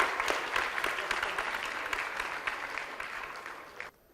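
A crowd applauds a guest of honor at a sustainability conclave, a steady wash of clapping that slowly thins before stopping abruptly near the end.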